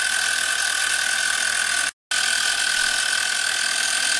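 PM-25MV CNC mill cutting aluminum, a loud steady high-pitched cutting whine with a constant tone, broken by one short silent gap and then resuming, no talking.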